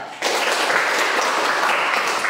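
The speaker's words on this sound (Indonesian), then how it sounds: "Berikan tepuk tangan kepada teman kita." A school classroom bursts into applause as students clap for a classmate, starting suddenly and holding as a dense, even patter of many hands close by, with no talk.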